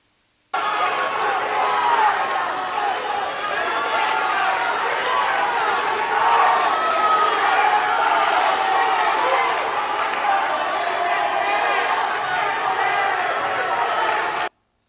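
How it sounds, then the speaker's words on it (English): A crowd at a high school wrestling match cheers on the teammates, a continuous roar of shouts and clapping from both sides, dense and loud from start to finish. "folks standing up, cheering their teammates on"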